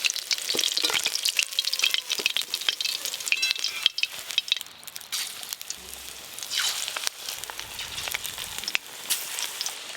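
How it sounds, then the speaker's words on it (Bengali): Prawn fritters fry in a pan of oil, a loud, continuous crackling sizzle with dense popping, close up and steady for the whole stretch, with occasional stirring sounds. "চিংড়ি মাছের বড়াগুলো বেশ ভালো করে ভাজা হয়ে গেছে তুলে নেব"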